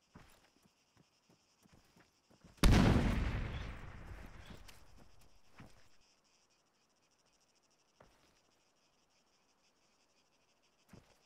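A frag grenade explodes in Arma 3 with one sharp, loud blast that rolls off into a long decaying rumble over several seconds, amid faint distant ambience and a few small clicks.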